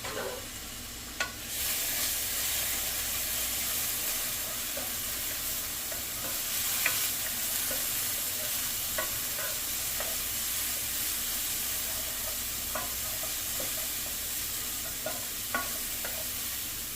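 Minced garlic sizzles steadily in a hot pan while cooking spaghetti sauce, a constant soft frying hiss broken by occasional light clicks of a utensil stirring against the pan.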